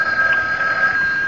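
A telephone rings with a steady, bright, unbroken tone throughout a short moment of a CBS radio mystery drama, loud and alone with no voices.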